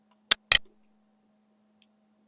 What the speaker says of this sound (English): Just click on the shield icon